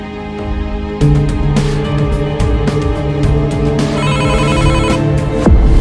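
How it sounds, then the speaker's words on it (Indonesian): A phone rings in the Sakura School Simulator video game, a repeating electronic ringtone that sounds clearly and continuously over a soft game background, with no talking. "Si Tommy telpon."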